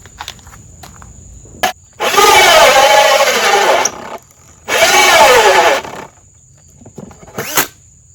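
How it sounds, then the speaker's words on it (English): A drill turning a 2 1/4 inch hole saw bites into a workpiece in two loud, close bursts of about two and one and a half seconds, separated by quiet pauses and followed by a brief final blip. "What I have here is a 2 1/4 inch hole saw."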